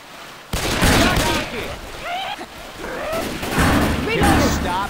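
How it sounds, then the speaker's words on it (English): Rapid, loud bursts of video-game gunfire as players shoot each other in Left 4 Dead 2, clattering in uneven volleys after a brief quiet start, with voices breaking in between shots. "Can you stop shooting each other?"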